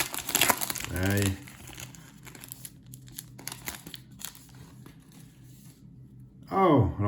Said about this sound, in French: Un dernier paquet qui ne souhaite pas s'ouvrir.